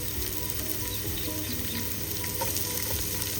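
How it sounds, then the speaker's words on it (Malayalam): Sliced onions sautéing in oil in a pan for vegetable fried rice, a steady dense sizzle with faint stirring scrapes, continuous and close, no voices. "സവാള ചേർത്ത് കൊടുക്കുക. അതൊന്ന് നന്നായിട്ട് വഴറ്റുക."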